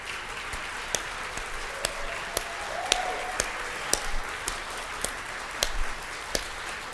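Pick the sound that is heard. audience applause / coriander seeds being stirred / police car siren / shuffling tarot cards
audience applause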